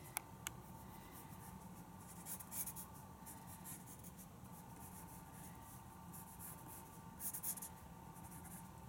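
A pencil moves over paper while drawing the details of a candy. Soft, continuous scratching strokes come close but faint, with a few slightly louder bursts of shading and no voices.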